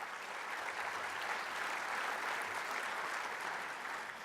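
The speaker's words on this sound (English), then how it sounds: "every one of you deserves to give yourselves a huge round of applause" A dinner audience at the 2011 Goldwater Dinner breaks into sustained applause, a dense, even wash of clapping that holds steady for several seconds with no voices over it.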